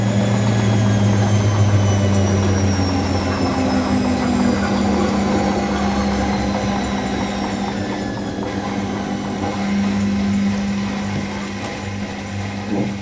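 A Hotpoint WD64 Aquarius Extra washer dryer runs a 95ºC white cotton program, giving a steady, close mechanical drone with a low hum and faint whining tones that continue unchanged throughout, with no voices.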